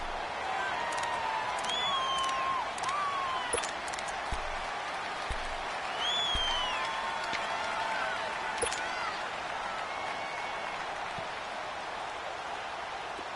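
Steady roar of a stadium crowd in a PS4 football video game building ahead of a big third down, continuous and fairly loud, with whistles and a commentator's voice over it.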